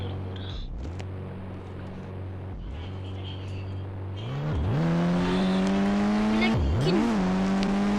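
An Audi car's engine revs hard, its pitch dropping and then climbing again in repeated surges that grow louder and closer over the final seconds.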